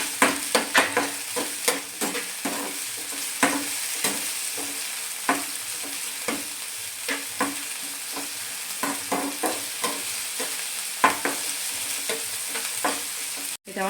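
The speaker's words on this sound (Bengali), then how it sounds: "টমেটোটা আমি একটু ভেজে নেব।" Chopped tomato fries in oil in a pan for a masala omelette, with a soft steady sizzle broken by repeated scraping and stirring strokes of a spatula, close and fairly quiet.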